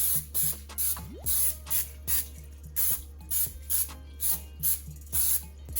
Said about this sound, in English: spray my rack with some pan. All right, cooking spray, so to ensure that my wings don't stick.